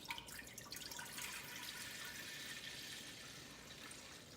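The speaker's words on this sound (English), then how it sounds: "We just simply pour the apple juice in." Apple juice pours into a cooking pot at home in a steady, soft splashing stream, quiet and close, with no voices.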